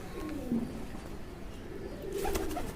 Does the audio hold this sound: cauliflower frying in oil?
no